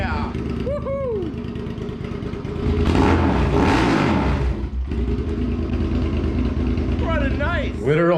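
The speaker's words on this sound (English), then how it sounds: "The bike sounds freaking great. Like, holy moly, she sounds throaty." Restored Suzuki SV650 motorcycle engine running close by with a throaty idle, swelling into a strong rev midway before settling back down, while someone talks excitedly over it.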